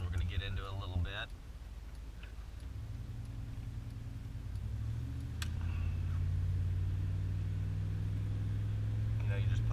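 A car engine pulls uphill at medium throttle with a steady low hum that rises slightly and holds. Someone talks over it at the start.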